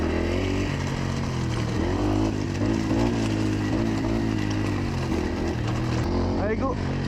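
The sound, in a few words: enduro motorcycle engine braking in first gear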